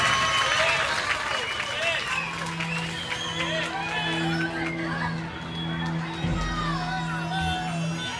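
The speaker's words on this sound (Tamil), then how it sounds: "அவருக்காக ஒரு கைத்தட்டல்" Audience applause at a temple music concert in Perambur, a dense crowd clapping throughout with voices talking and sustained musical tones underneath.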